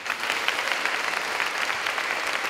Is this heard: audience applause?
yes